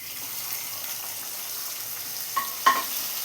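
Fried cashews and raisins are poured into a pot of adapradhaman payasam, giving a soft hiss and a sizzle that ends in two brief louder splashes near the end.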